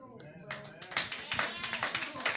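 Applause from a crowd, a dense patter of many hands clapping, swells up after a moment of talk and carries on steadily.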